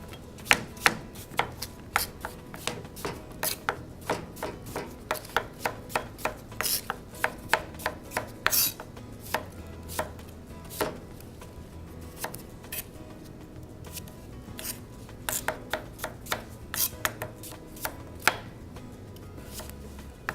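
A knife slices through apples on a cutting board in quick, close, crisp chops, an irregular run of sharp taps through the whole stretch with soft scraping between, no speech.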